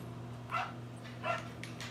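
Small dog character in GTA 5 giving two short, moderately loud barks about a second apart over a steady low game hum.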